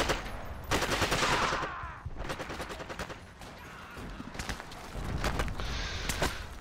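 Heavy gunfire in the World War II game Forgotten Hope 2 during a siege of Giarabub, dense overlapping bursts and rapid volleys rolling on without a break, loud and close with some distant shots behind.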